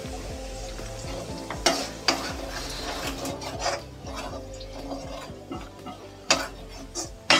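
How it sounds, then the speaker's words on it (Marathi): Spiced potato mixture stirred and roasted in oil in a pan for aloo paratha, a steady sizzle with periodic scraping knocks of the spoon against the pan. "ती पण ढवळून घेते। सगळं थोडं भाजू दे।"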